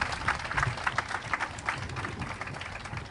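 Audience applause from a large crowd gathered at Gwanghwamun Square in the evening, steady dense clapping that is fairly distant and soft, continuing through the whole stretch with no voices on top.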